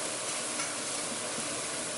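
Vegetables for japchae stir-frying in a pan, giving off a dense, even hiss of sizzling with faint stirring movement throughout, close and uninterrupted, with no talking.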